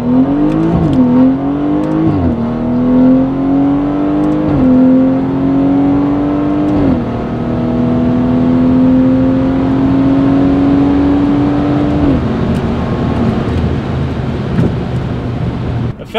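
A tuned BMW F30 340i accelerates hard, its engine drone climbing steadily through several gears with brief dips at each shift, loud and continuous as heard from inside the car.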